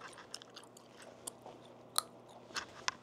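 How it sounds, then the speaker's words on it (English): Gum being chewed close to the mic, with soft, irregular wet clicks and smacks at a quiet level and no talking. "I'm feeling better now that I'm chewing some gum."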